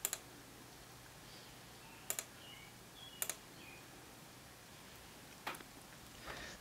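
A computer mouse clicks several times, with sharp, crisp single and double clicks spaced a second or more apart over a quiet background hum.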